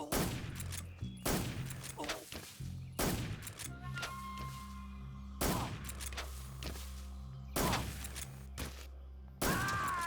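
AK-47 fire in the video game Metal Gear Solid 3 comes as a series of loud, sharp shots spaced a second or two apart, each ringing out over a low steady game rumble.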